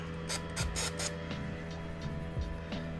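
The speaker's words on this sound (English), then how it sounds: "you could just spray this, spray it on there" Several short hissing bursts from an aerosol can of adhesive remover cleaner sprayed onto a vehicle's body, close by, over a low steady background hum.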